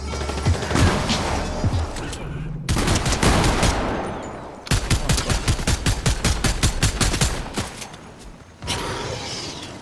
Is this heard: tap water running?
no